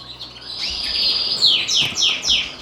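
Variegated red canaries, an intensive cock and a non-intensive hen, chirping in a birdroom breeding cage, close bright tweets building into a quick series of rising calls.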